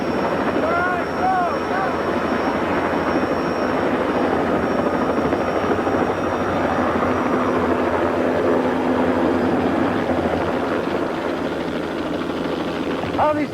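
A helicopter lifts off nearby, its loud rotor beat and engine whine holding steady and filling the scene throughout, with no voices over it.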